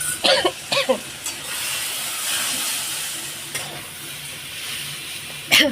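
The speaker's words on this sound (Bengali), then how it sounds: "এই যে একটু আদা দিয়ে দিলাম এখন কষানো হবে" Fish curry spices with ginger frying in a pan, a steady hiss and sizzle with bursts of stirring scrapes near the start and a louder one at the end.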